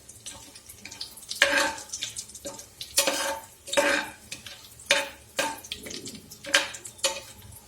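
Biryani ingredients are stirred in a pot, with about nine distinct scraping, rustling strokes at a steady rhythm, close and moderately loud over a faint sizzle, with no voices.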